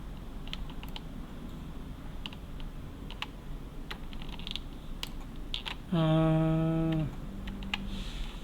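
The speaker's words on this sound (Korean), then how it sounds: "Alt 컨트롤 동시에 누를게요" Computer keyboard keys, Alt and Ctrl, pressed in a series of light clicks over a quiet room background, followed by a brief loud harmonic beep or tone near the end.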